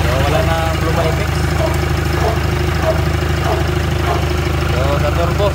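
A Hyundai Tucson engine with a suspected defective turbo idles steadily up close, a constant low rhythmic drone with a faint whine above, while someone talks over it.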